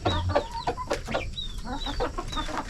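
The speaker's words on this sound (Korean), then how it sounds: "아유, 이 닭자가리들, 이 닭새끼들아." Several chickens cluck and squawk close by in a busy, overlapping chatter of short calls, with brief higher cries mixed in.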